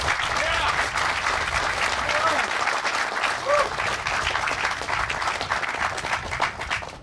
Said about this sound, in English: I'd like to ask everyone to give you another round of applause for your leadership.